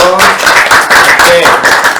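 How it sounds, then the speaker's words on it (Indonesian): Audience clapping on a talk show set comes in quick, rhythmic bursts of several hands, loud and close, with tonal sounds running through it. "tepuk tangan dong"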